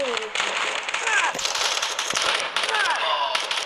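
Rapid gunfire crackles and pops through a mobile-style shooter game, dense bursts of shots layered with a player talking excitedly over the action.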